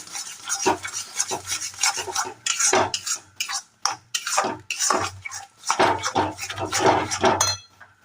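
Thick fish paste being stirred and sautéed with spices in a pan for Kolkata-style fish kachori, loud repeated scraping and clanking of a metal spoon against the vessel in bursts, with a faint sizzle underneath and no talking.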